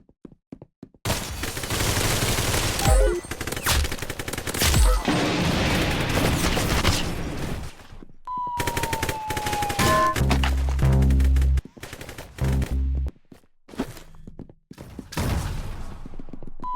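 Video game gunfire crackles in dense, loud bursts of rapid shots and heavy impacts, with a brief pause midway and a tonal effect, then more shooting and booms.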